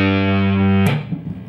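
Electric guitar through a distortion pedal, a loud sustained overdriven note ringing steadily before being cut off abruptly, leaving a short noisy decay.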